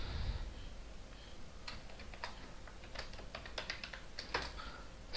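Fingers type on a computer keyboard in quiet, uneven bursts of soft key clicks, with a few pauses between words and no one speaking.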